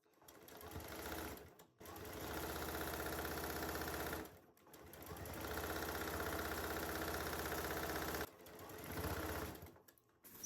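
A sewing machine runs in three long bursts as quilt pieces for a Tulip Star sampler block are stitched together, its steady motor whir and rapid needle chatter broken by short pauses, close and loud with no talk.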